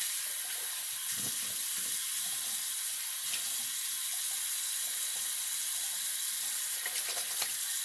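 Tap water runs steadily into a sink during a rinse, a constant close hiss with no pauses from start to end.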